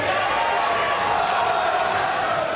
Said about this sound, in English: And the crowd roaring in approval for Adam Amarasinghe